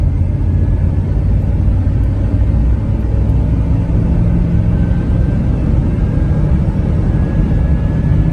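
A donated car bought at auction drives in second gear after struggling to shift, a steady loud low engine and road rumble heard from inside the cabin, with no talking.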